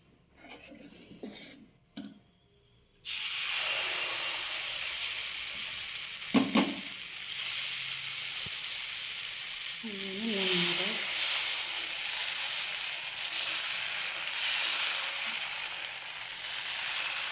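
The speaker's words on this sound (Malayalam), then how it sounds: "ദോശക്കല്ല് വെച്ചിട്ടുണ്ട് മാവ് റെഡിയാണ് കോരി ഒഴിച്ച് ദോശ ഉണ്ടാക്കാം" Dosa batter poured onto a hot griddle for masala dosa sets off a loud, continuous sizzle after a quiet start with a few clanks, and a brief stir or scrape and a small whistle-like tone come midway.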